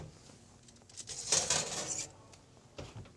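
Metal tray of baked phyllo pulled from an oven, giving a faint clatter and scrape of the pan that swells into a brighter metallic rattle midway, then a softer knock near the end.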